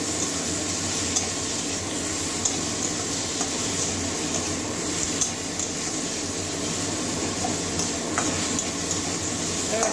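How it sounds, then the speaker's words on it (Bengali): Prawns stir-fry with spices in a pan for bottle gourd prawn curry, a steady sizzle with occasional scraping stirs, a continuous close hiss with no talking. "এবারে মাছগুলো ভালো করে মশলার সঙ্গে কষিয়ে নেব।"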